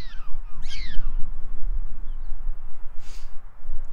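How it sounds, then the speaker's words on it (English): Prairie dogs give warning barks: several sharp, high-pitched calls ring out near the start, then a brief chirp later, over a windy background rumble outdoors. "they make high-pitched barks and yips to warn about the presence of predators"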